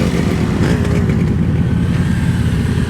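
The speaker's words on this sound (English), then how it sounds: "Remember, guys, this is a slow speed motorcycle operation." Motorcycle moving at slow speed during a tight U-turn practice session, a steady, loud, close engine drone with a low rumbling rhythm throughout.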